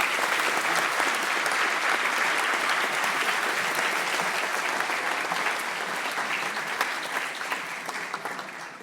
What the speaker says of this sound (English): So please, a big applause for him.